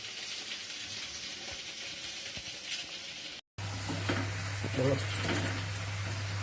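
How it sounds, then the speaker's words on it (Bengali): Food fries in a pan with a continuous close sizzle, cut by a short silent break partway through, after which the crackle carries on alongside a low steady hum. "ভাজা হচ্ছে"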